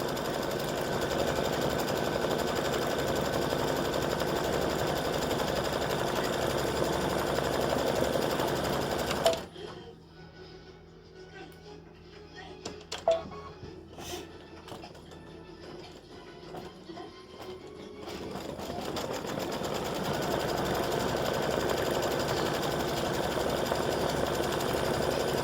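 An embroidery machine stitching an in-the-hoop Bless Our Home mug rug in maroon thread makes a steady, even mechanical whir that runs loud, drops into a quieter stretch with scattered clicks partway through, then resumes at full level.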